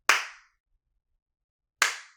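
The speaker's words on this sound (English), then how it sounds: "if you're clapping the beat" Two sharp hand claps roughly 1.7 seconds apart mark a slow beat, each crisp and close with a short decay, and silence in between.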